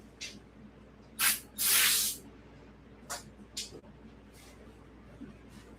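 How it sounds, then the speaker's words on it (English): Several short hissing bursts of aerosol spray onto a bicycle part, one longer blast in the middle, with quieter puffs spaced around it. "this could definitely use a spray"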